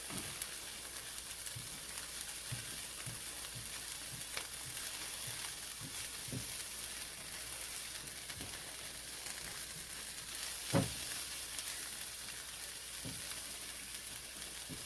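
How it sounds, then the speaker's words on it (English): Shrimp fry in a hot pot with a steady crackling sizzle, broken by light scraping and tapping from a spatula, with one louder knock near the end. "we'll fry up the shrimp"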